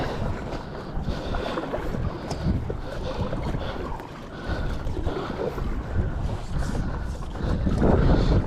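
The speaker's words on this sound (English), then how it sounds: "boat is coming right behind me" A boat passes on the water near Anacortes, a steady low engine rumble and wash close behind, mixed with wind buffeting the microphone throughout.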